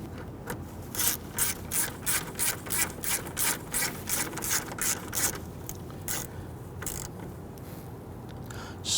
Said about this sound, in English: Let's go ahead and install our bolt right here to hold that.